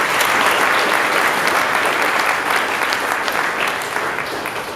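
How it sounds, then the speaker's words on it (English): Sustained applause from an audience at a school presentation day after singing performances, dense and steady throughout, easing slightly toward the end. "So a big round of applause for everybody."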